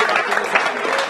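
Applause from a crowd at a celebratory football club event, a dense burst of clapping that fills the moment, loud and close, with voices mixed in.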